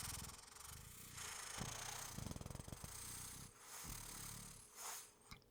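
A voice imitates a cat's purr in soft, breathy rumbling bursts and fluttering snorts, close to the mic and fairly quiet, with irregular pauses between the rolls.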